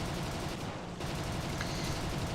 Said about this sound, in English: Better be careful here, I'm being shot at.